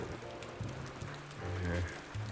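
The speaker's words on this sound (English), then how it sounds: "And it's raining cats and dogs." Rain patters steadily in the background, soft and even, while a nearby voice speaks over it.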